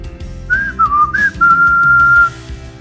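A man whistles a wavering, tuneful melody while running fast on a journey, the clear whistle rising and falling for about two seconds over a low musical backdrop.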